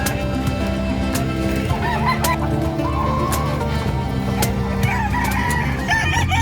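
Roosters crow and chickens cluck continuously at a crowded livestock market in Malasiqui, with goose-like honks mixed into the dense, overlapping fowl chorus.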